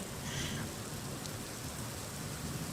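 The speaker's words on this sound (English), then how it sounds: "Oh, it's raining." Rain falling outdoors as a steady, faint broadband hiss of drops, continuous and unbroken, with no voices over it.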